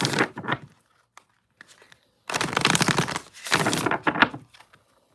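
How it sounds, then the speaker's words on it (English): A deck of tarot cards is shuffled in close, crisp riffling bursts, one short and two longer runs separated by near silence. "2 more shuffles here, collective, and then we'll get started."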